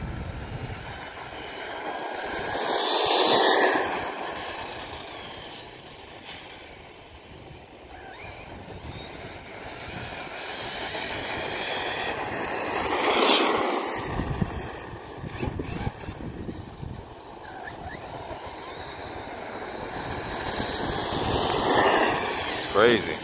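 A Typhon V3 Katar RC vehicle runs back and forth on loose gravel, its high motor whine swelling as it nears and fading as it passes, three passes spread out, with crunching gravel and wind noise throughout.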